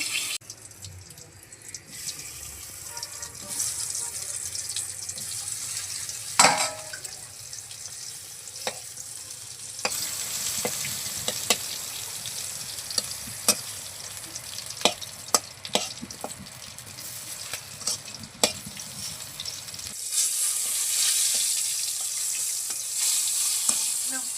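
Pointed gourd (potol) frying in a pan on a clay stove gives a steady, soft sizzle for about twenty seconds, broken by light clinks and stirring scrapes, with no talk.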